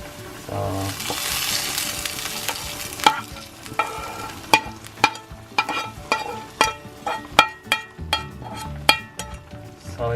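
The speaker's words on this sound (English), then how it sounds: "once the garlic is fried and it's golden brown, you transfer this fried garlic to the bigger saucepan up there." Garlic fries in a saucepan with a steady hiss and sizzle, while a utensil stirs and clinks against the pan in a quickening series of sharp taps, close and without talk.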